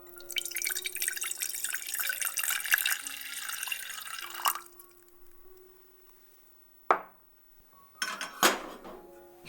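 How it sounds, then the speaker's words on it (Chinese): Water running from a tap into a small pot, a steady splashing pour for several seconds, then quiet with a few metallic clinks and a final splash of water. "小锅加入水，"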